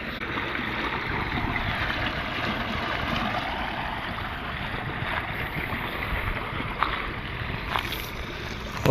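Water flows through a sluice pipe into an aquaculture pond, a steady broadband rush and wash that holds an even level throughout, with a couple of faint knocks near the end.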